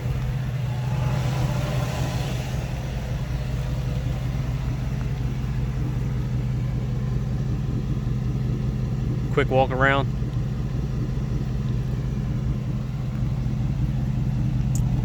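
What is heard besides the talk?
2005 Dodge Ram 5.7 HEMI straight pipe exhaust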